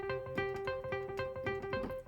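A plucked tweed synth patch from a software instrument library plays a repeating riff of bright, twangy notes with a slight echo, steady and close with no other sounds.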